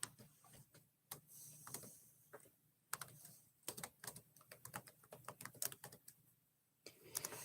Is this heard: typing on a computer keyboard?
yes